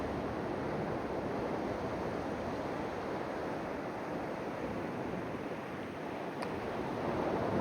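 Ocean surf washes onto the beach at the point in Cherry Grove, North Myrtle Beach, South Carolina, as a steady, broad hiss and rumble of waves with some wind noise. It runs continuously and fairly evenly at moderate loudness, with no voices.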